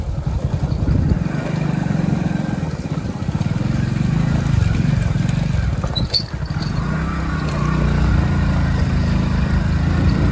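A motorcycle travels on a rural road toward a farmhouse, its engine a constant low rumble with shifting pitch and wind noise, close and steady throughout.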